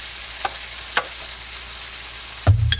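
Spinach hitting a hot pan of tofu scramble, a steady bright sizzle with a few soft stirring scrapes and a louder thump and rustle near the end as the greens drop in, no voices.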